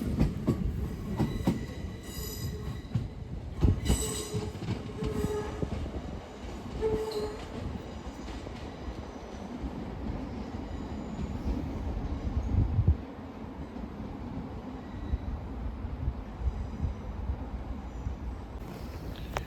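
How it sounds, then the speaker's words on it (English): An LNER train from London King's Cross arriving at Newcastle station, a loud, close rumble of rolling wheels and rail clatter with squealing brakes and clanks, continuing steadily without talk. "Driving in now is an LNER service"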